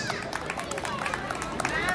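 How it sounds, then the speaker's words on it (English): Audience at a junior school sports day applauding the race winners, a steady dense wash of clapping and crowd noise with murmured chatter mixed in, close and sustained throughout. "Please give them a loud round of applause."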